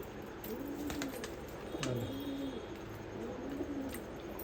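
Pigeons offered for sale coo close by in soft, repeated low calls that overlap one another at a quiet level, with no talking.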